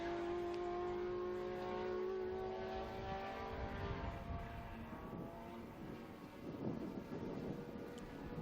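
A Porsche race car circulates the Estoril circuit at a classic racing event, its engine note rising as it passes at a distance, then fading into a rougher, faint rumble.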